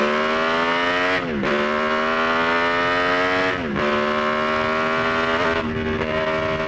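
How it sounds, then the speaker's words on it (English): The rare 500cc Moto Guzzi V8 racing motorcycle sets off from the TT grandstand, its engine screaming loud and close, pitch climbing through each gear and dipping briefly at three shifts. "The 500cc V8 Moto Guzzi is the only 8-cylinder motorcycle ever made."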